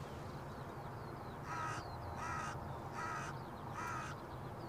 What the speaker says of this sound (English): What's that, Mr. Crow?